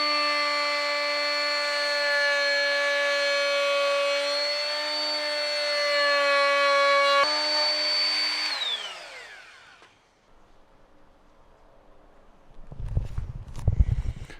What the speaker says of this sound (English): we're gonna take my router and put a nice 1/4 inch round over on the edge